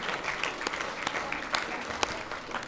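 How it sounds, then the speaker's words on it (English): An audience cheers and claps at a staff recognition ceremony, a dense steady wash of applause punctuated by sharp whoops and shouts, close and lively throughout. "I love this cheering section."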